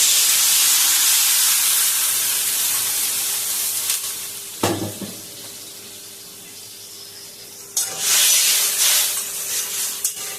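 Water poured into a hot pan of frying food for raw mango chutney bursts into a loud hiss of steam that fades, followed by a sharp second surge of sizzling and bubbling near the end.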